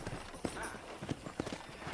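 Horse hooves clip-clopping in the Old West game Red Dead Redemption, a few irregular soft thuds over a steady ambient bed with faint music or voices underneath.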